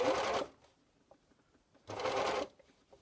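Two short bursts from an overlocker serger stitching bias binding onto a dress armhole, fast whirring runs close up separated by a quiet pause with faint handling sounds.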